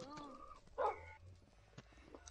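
A Minecraft dog barks in a short yip or two under quiet, close talking, with a few soft game clicks around it.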